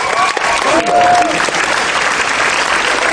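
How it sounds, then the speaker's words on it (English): Audience applause fills a Comic Con panel hall for Supernatural, a loud, steady wash of clapping from a large crowd, with a brief tonal whine near the start. "I was fishing for applause"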